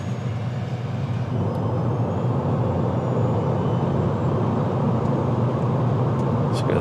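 A 2024 Fiat 500e electric car accelerates at a normal pace, its steady road and tyre rumble continuous and close throughout, with faint speech in the background.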